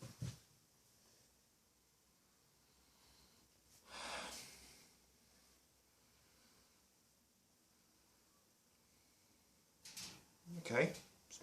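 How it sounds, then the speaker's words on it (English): Close, breathy sniffs at a glass of Grolsch Premium Lager: a short burst at the start, another around the middle and a stronger pair near the end, with quiet room tone between. "So we'll give it a sniff."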